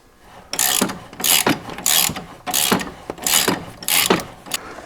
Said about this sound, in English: Taking that bolt out the rest of the way from up top